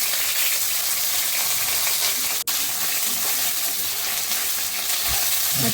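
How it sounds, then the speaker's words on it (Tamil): Brinjal sautéing in hot oil for a masala thokku, a steady, loud sizzle that holds the whole time, with one sharp click partway through and a low thump near the end. "எண்ணெய் ஊற்றி கத்திரிக்காவை நல்லா வதக்கி எடுத்துக்கலாம்."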